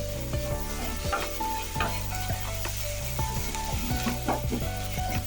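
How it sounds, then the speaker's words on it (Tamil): Tomato and onion sauté in a pan on medium flame for a paneer gravy, with a loud, close sizzle and repeated scraping stirs of a spatula, over light background music. "தக்காளி வெங்காயம் நல்லா அந்த பொன்னிறமாக வர்ற வரைக்கும் நல்லா வதக்குங்க."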